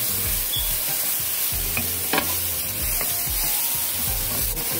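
Jumbo shrimp for jerk shrimp pasta sizzle and fry loudly in a hot pan, with scraping and clinking of a utensil stirring them.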